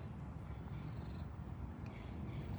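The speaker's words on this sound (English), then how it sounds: "There's a lot of purring going on" A big cat at a rescue sanctuary purring in a steady, low, continuous rumble, heard close and alone with no talking.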